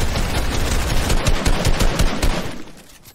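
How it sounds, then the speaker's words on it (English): Rapid automatic gunfire in a solo squads battle royale video game, loud dense bursts of shots that fade out at the end, with no talking over them. "Bro, who is shooting?"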